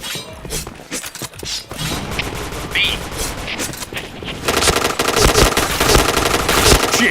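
Rapid bursts of automatic gunfire ring out in a shooter video game, loud and dense, growing into near-continuous firing toward the end, with a voice talking over it.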